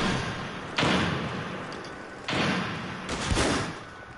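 Two or three sharp, booming gunshots in a PS4 shooter, spaced a second or more apart and fairly muffled, with a low background hiss between them.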